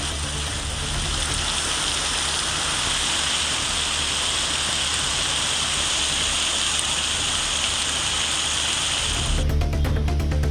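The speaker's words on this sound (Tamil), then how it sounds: "சேலம் மாவட்டம் ஆத்தூர் மற்றும் அதன் சுற்றுவட்டார பகுதிகளில் சுமார் 2 மணி நேரம் கனமழை கொட்டியது." Heavy rain pours steadily around Attur in Salem district, a dense, loud, continuous hiss of falling water with no break for the whole stretch.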